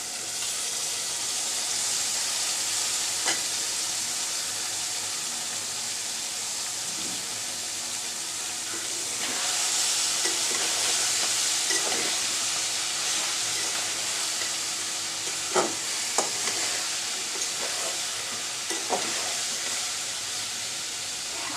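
Half-boiled vegetables fry in a pan for a hotel-style chicken vegetable dish, a steady broad sizzling hiss running throughout, with occasional scraping and knocking of a spoon as they are stirred.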